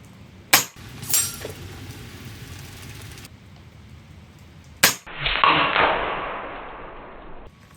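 An Evanix Monster PCP air rifle with an 800cc tank fires, giving a few sharp cracks spread across the moment and then a bright rushing hiss of released air, close and loud.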